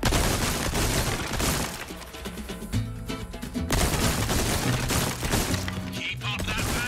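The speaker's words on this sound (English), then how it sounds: "this TMP's got 70 in the mag" TMP submachine gun in Resident Evil 4 Remake firing in long, loud, rapid automatic bursts, mixed with crashing and breaking game effects and a brief lull midway.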